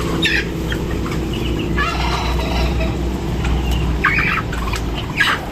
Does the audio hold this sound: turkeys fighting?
yes